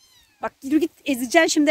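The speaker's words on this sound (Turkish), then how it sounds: "Yalnız bu kedi niye peşinden dolaşıp duruyor ya?" A cat meowing in a village garden during a harvest of peppers, a short rising meow near the start, followed by someone speaking up close.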